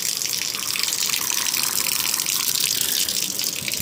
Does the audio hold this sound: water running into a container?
yes